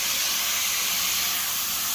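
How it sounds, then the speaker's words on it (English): Hot water poured onto a hot BBQ grill grate during spring cleaning, a loud unbroken hiss of steam and boiling that stays even and close from start to finish. "Now I'm about to hit it with some hot water and scrape this thing right up with my old scraper"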